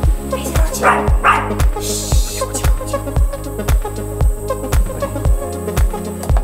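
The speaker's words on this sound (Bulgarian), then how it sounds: "Малко куче." A small dog barks loudly and close in a quick, regular series of sharp yaps, about a dozen in steady rhythm, with a brief whine or murmur partway through.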